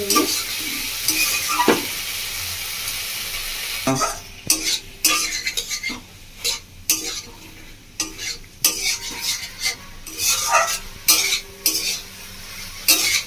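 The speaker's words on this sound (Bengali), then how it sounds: "বন্ধুরা, আদাটা দিয়ে ভালো করে আমি 3 মিনিট মতো কষিয়ে নিয়েছি।" Ginger sautéing in a pan for village-style Bengali bhindi masala: steady sizzling frying with repeated metal spoon scrapes and clinks against the pan, close and fairly loud, no talking.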